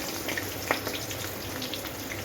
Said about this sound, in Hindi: तो हम इसमें प्याज को डाल देते हैं और ये प्याज हमारी फ्राई हो जाएगी